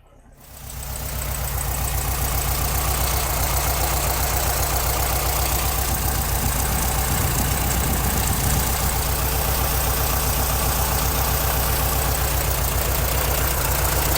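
A 1969 Volkswagen's rear-mounted engine idles steadily up close, a continuous low, even mechanical drone with a faint knocking rhythm that holds at constant loudness for the whole stretch after a brief quiet start.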